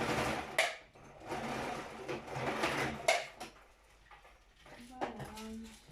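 Sewing machine stitching a fabric face mask with a sponge lining, short bursts of stitching broken by pauses and handling clicks, quiet and close, with speech in between.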